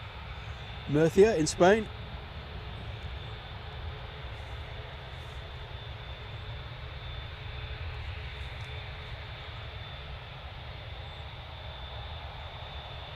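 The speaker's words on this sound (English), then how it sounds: "We're going to let the Ryanair go as well." Ryanair airliner departing Manchester Airport, heard as a steady, distant engine roar that runs through the whole clip, with someone speaking briefly near the start.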